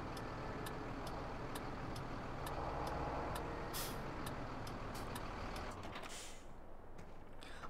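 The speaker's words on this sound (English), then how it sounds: "It does kind of rock just a little on turns and stuff like that, but it is one fast semi-truck." Semi-truck driving in the Farming Simulator 17 video game, a steady low engine rumble with repeated ticking clicks and a sharp air-brake hiss near the end, moderately loud.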